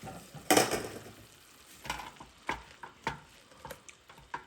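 Beef and broccoli being stirred in a pan, a soft low sizzle under a string of spatula scrapes and knocks coming every half second or so, close and fairly quiet.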